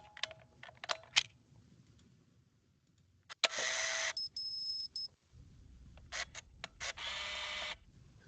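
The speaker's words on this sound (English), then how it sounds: "Beep sound." Short electronic beeps and high tones sound between scattered clicks and rustling, with a steadier tone partway through.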